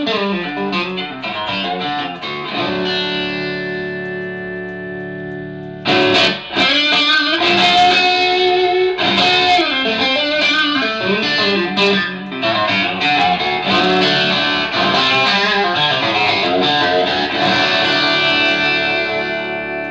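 An angry, distorted Stratocaster electric guitar tuned down to D with heavy strings plays through a vintage Tube Screamer overdrive and an amp with reverb, sustained chords ringing loud and continuous, with a brief pause before strumming resumes.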